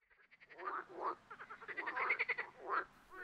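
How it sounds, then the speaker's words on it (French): An American bullfrog, an invasive species originally from Florida, croaks in a series of rapid, pulsing calls that rise and fall over about three seconds, fairly close and alone, with no voices. "La grenouille taureau est une espèce exotique envahissante, originaire de Floride"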